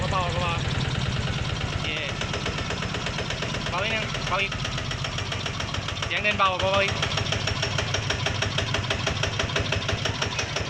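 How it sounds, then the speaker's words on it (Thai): A small engine idles steadily with a rhythmic, even putter while a person talks over it. "ครับเสียงเครื่องนิ่มมากครับ"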